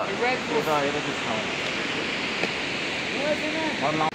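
A broad, steady rush of a mountain stream on the Annapurna Base Camp trek between Upper Sinuwa and Deurali fills the air, with people talking over it at intervals.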